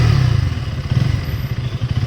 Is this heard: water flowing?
no